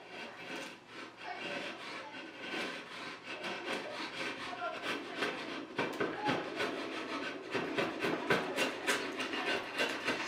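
A steel chisel pares a scrap piece of red oak in a run of short, rhythmic scraping strokes. The rasping is close and steady, and no one speaks.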